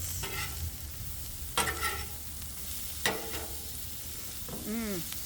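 Salisbury steak frying in avocado oil on a Blackstone griddle, giving a steady close sizzle with a few scraping strokes of a spatula and a brief squeak near the end.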